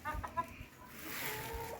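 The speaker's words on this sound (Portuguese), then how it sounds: "E aqui as galinhas." Chickens clucking in a backyard coop area of a small farm with goats and turkeys, a few short clucks near the start over low steady background noise.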